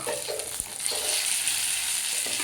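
Chilies and other ingredients sauté in hot oil in a pan for a dish made from leftover sour dosa batter, giving a steady, close, hissing sizzle with a few soft stirring knocks.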